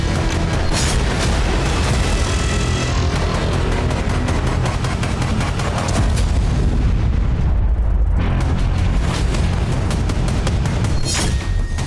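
Heavy booming blasts tied to a car explosion near Delhi's Red Fort roll on loud and continuous, with rapid crackling bursts like gunfire and a brief lull before they resume, without any talking.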